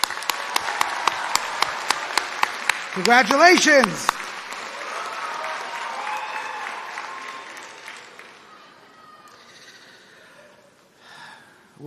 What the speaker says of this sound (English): my personal round of applause for all the graduates